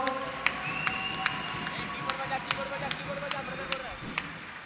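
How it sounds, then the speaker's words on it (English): A church congregation at a praise and worship service in Goa claps hands in a steady, even rhythm, the sharp claps ringing out over singing voices and general crowd noise. "Let us clap and thank the Lord."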